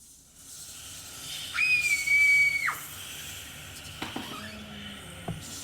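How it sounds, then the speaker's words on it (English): Several scary-sounding BandLab synth pads layered together form a haunting sustained tone that swells and bends downward, then fades into quieter airy texture with a few soft plucked accents. "So that's how you can use these scary sounding pads"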